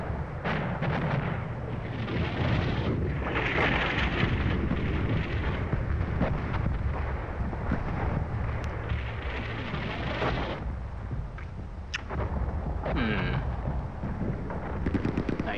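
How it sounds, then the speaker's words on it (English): Artillery fire in the wargame Steel Panthers: World at War, a long stretch of heavy, rumbling booms and blasts layered over one another, loud and sustained with a few sharper cracks. "that's just artillery."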